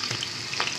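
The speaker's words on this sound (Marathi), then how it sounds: "आता ही फोडणी छानपैकी आहे ना फ्राय करून घेऊयात आपण" Mustard seeds, cumin, chilli pieces, curry leaves and sesame seeds fry in oil in a kadhai for tempering, giving a soft, steady sizzle with faint crackles, quiet and close, no voices.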